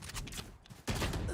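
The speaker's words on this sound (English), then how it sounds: "This is the big boy handgun. 1 shot to the head takes you down." Handgun fire in the Valorant video game lands a headshot: sharp, close gunshot bursts in quick succession over a brief moment.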